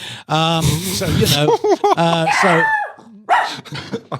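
A dog barks and growls in a room, a couple of loud, close yips mixed into lively human talk and laughter.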